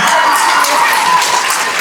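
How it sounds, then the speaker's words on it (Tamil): Audience applause at a Tamil pattimandram debate on the younger generation: a dense, steady wash of clapping that stays loud and even from start to finish. "கைதட்டு போ"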